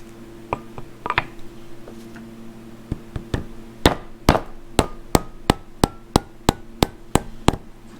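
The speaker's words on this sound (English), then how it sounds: "Might have to use a hammer to get that guy in there." A hammer taps sharply while seating a seal in a Ford 8N tractor's three-point lift cover, at first in scattered knocks, then in a steady run of about a dozen evenly spaced strikes.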